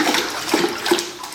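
Foley water sloshing stands in for a man falling into a river in a live radio play of It's A Wonderful Life, heard as a short run of close, churning splashes and gurgles.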